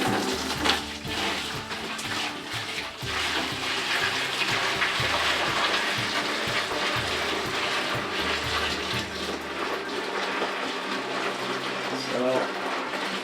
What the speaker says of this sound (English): And we're just gonna pour this straight in here.